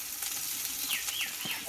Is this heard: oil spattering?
yes